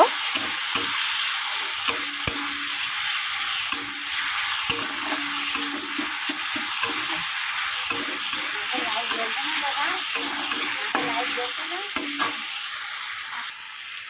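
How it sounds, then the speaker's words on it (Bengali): Tomatoes frying in a fish curry give off a loud, continuous hiss and sizzle, with soft repeated stirring scrapes layered underneath throughout. "সুন্দর করে নাড়াচাড়া দেবো"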